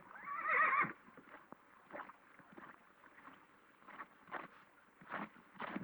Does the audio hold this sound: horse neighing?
yes